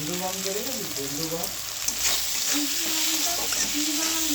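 Tomatoes with chili powder and cumin powder sizzle and hiss in a pan while being stirred, a continuous close frying crackle with a voice talking over it.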